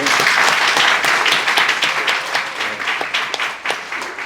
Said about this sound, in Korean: 우리 박수를 함께